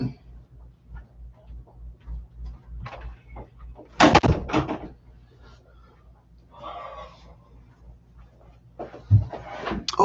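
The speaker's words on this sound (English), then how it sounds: "I'm going to close my door real quick just so I don't get any extraneous noise from the church." Door being closed indoors: a loud clunk and rattle midway, followed by more handling knocks and a final thud, with quiet rhythmic ticking beforehand.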